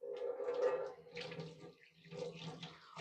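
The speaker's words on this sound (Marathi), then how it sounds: "हे असं झालं की हे धुवून घ्यायचं" Water runs and splashes over a cleaned copper and brass vessel being rinsed, a fairly quiet, close tap-like flow with uneven gurgling surges and brief pauses.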